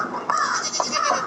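A cartoon goat bleats in a wavering, nasal cry that rises and falls several times across a short stretch, loud and close, with little else around it.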